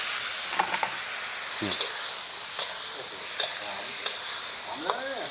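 Steady loud sizzling of vegetables frying in a pan with garlic, with occasional stirring scrapes and a brief voice over the hiss.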